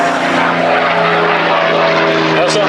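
A WWII-era propeller fighter plane flies past at an airshow in Stord, its engine a steady, loud droning roar that fills the short clip without pause.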